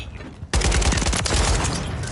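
Call of Duty MW3 gameplay: a sudden loud blast after a quieter half-second, followed by dense, continuous rapid gunfire that stays loud and close to the end.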